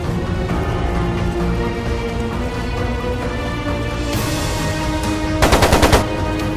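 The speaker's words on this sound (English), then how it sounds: "It sounded like a machine gun." Machine gun fire in Trails of Cold Steel II arrives as a rapid, loud burst of shots near the end, after a long stretch of steady game background.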